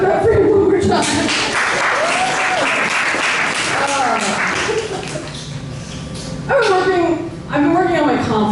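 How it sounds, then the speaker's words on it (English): A comedy show audience applauds after a stand-up set, the clapping mixed with whoops and cheering voices that rise and fall, then swell again near the end. "so clap for him one more time"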